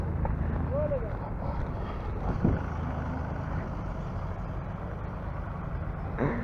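A tractor's steady low engine rumble drones throughout, with wind buffeting the microphone and a few brief voices heard faintly over it.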